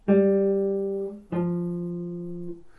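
Two plucked guitar notes, each ringing and slowly fading, played alone up close at a moderate volume.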